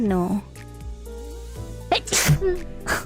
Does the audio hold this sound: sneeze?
yes